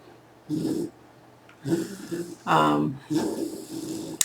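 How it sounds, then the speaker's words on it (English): A sleeping dog, dreaming, gives several snuffling snorts and breathy huffs in irregular bursts, close and fairly loud, with one longer nasal whine-like snort in the middle. "The dog sounds like she has allergies, but she's actually dreaming."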